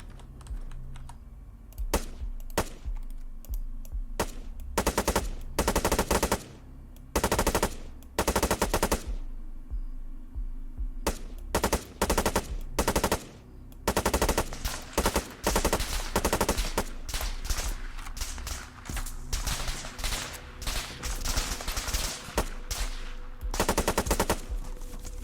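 Bursts of automatic and single gunfire in the video game Arma 3 during a beach assault, loud and repeated in irregular clusters, with keyboard typing underneath.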